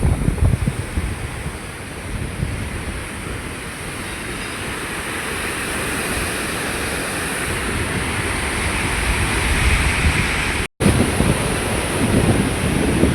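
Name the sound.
water rushing forcefully through river rock potholes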